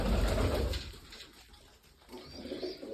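Domestic pigeons cooing in a loft, soft repeated low coos close by, alone without talk, with quieter bird sounds fading in and out.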